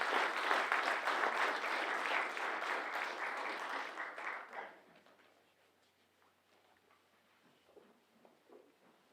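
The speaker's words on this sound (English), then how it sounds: "Please give them a well-deserved round of applause for all of their accomplishments." Sustained applause for graduating seniors at a school awards ceremony, a full dense wash of clapping from a large audience that fades out after about four and a half seconds into quiet room noise with scattered faint sounds.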